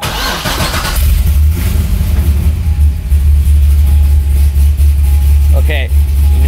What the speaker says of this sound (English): let's turn on the car, see what happens.